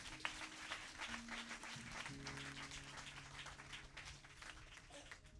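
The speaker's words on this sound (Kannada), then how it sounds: "ಹೊಡೀರಿ ಚಪ್ಪಾಳೆ." A congregation claps at a Sunday church service in Bangalore, a steady, continuous wash of hand claps with faint tonal sounds underneath, moderately distant and fairly quiet.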